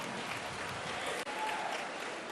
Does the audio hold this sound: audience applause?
yes